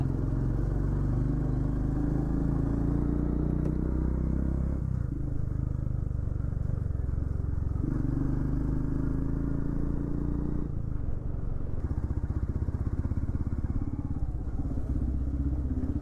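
Motorcycle engine running steadily on a quiet mountain road near Joshimath toward Niti Valley, a continuous close rumble with low thumps and clatter, no voices over it.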